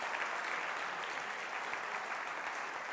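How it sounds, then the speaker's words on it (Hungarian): Students clap for their teachers at a Hungarian school's end-of-year closing ceremony, a steady, dense wash of applause from a large group filling the room without pause. "meg lehet tapsolni a tanáraitokat"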